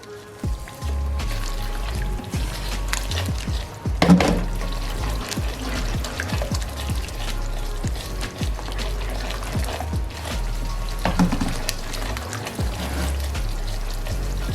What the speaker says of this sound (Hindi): ये देखिए, थोड़ा थोड़ा करके हम इसमें पानी ऐड करेंगे।